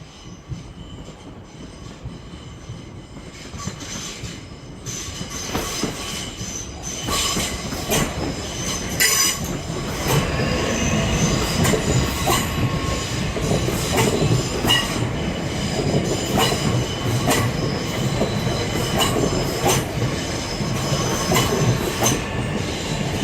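Class 465 electric multiple unit trains pass through Charlton station, a long, rising rumble of wheels with squealing and rhythmic clicking over the rail joints, growing louder and staying close for over twenty seconds without talk.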